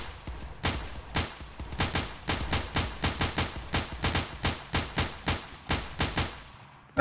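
A semi-automatic weapon fires in a video game: about fifteen sharp, close shots come one by one at an uneven pace, with short gaps between them.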